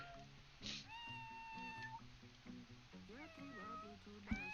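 Cat meowing in several rising and falling calls, close and clear, over a background of soft music.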